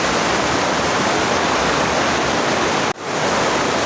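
A loud, continuous roar of heavy rain comes down outside a greenhouse, broken by one brief sharp dropout near the end before the steady wash returns.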